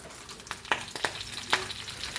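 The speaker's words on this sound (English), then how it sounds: "I'm gonna now go ahead and saute my spinach" Fresh spinach hitting a hot pan and sauteing, a steady close sizzle broken by a few sharp crackles and pops, with no talking.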